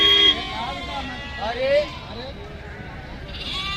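Sheep bleating at the Pebbair sheep market, a few wavering calls rising over busy crowd chatter and people talking nearby, with a faint vehicle horn in the mix.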